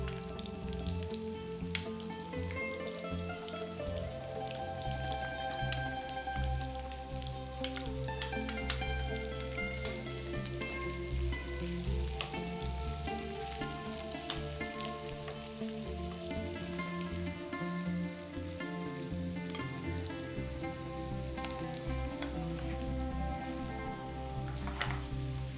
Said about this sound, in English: Add the onion and the apples and sauté for 5 to 6 minutes